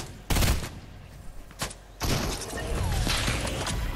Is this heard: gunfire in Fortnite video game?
yes